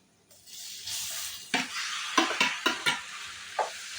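Macaroni stirred in a pan of sautéed vegetables, a steady sizzle broken by several sharp scraping strokes of a spoon against the pan, close and alone with no talk.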